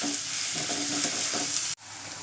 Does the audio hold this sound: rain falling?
no